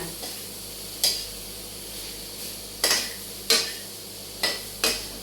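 Food being stirred in a pan in a home kitchen, with a spatula scraping and tapping against the pan in sharp, irregular strikes over a faint, steady sizzle, and no talking.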